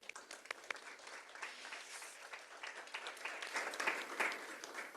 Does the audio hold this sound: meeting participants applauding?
yes